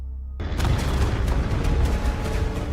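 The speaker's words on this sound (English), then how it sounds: "That jet then dropped many bombs, which ended up killing the pilot." Bombs dropped by a fighter jet explode in a film action scene, a deep, loud, continuous rumbling boom that starts suddenly and rolls on without pause.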